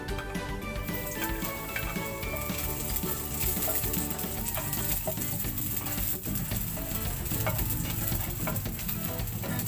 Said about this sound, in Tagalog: Gisa na natin yung ating bawang.